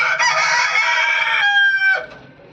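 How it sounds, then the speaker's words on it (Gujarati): Rooster crowing at a village animal shelter, one loud close, drawn-out crow that breaks off abruptly, followed by quieter clucking. "મરઘા"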